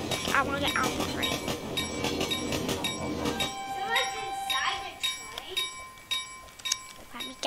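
A train in the Roblox video game rumbles and clatters loudly, with bell-like tones ringing over it, then the rolling noise drops away halfway through, leaving scattered clanks and chimes while a player talks.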